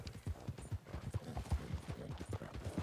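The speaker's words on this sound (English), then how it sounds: "there's the two red horses" Horse hooves clip-clop in a rapid, steady trot in a video game, several close, distinct thuds per second continuing throughout with faint game ambience.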